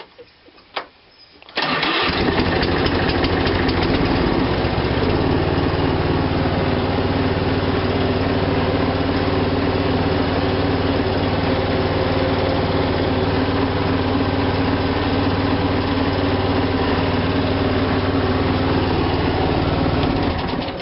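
Ride-on lawn mower engine with a repaired brake clutch pedal, cranking briefly and catching on a cold start, then settling into a loud, steady, close idle that runs unbroken to the end.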